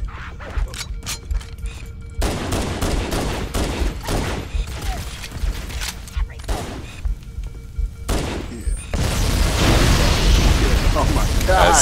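In Halo: Combat Evolved, bursts of gunfire and booming explosions in quick succession build into a continuous roar of blasts, with voices talking between them.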